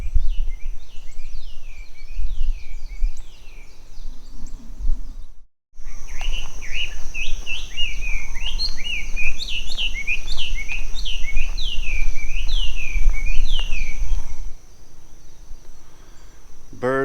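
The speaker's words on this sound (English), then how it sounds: "Birds are just a-singing this morning." Several birds sing in the morning at Lava Tree State Park on Hawaii's Big Island, with repeated bright chirping phrases in quick rhythmic runs over a low breezy rumble, broken by a brief silent gap.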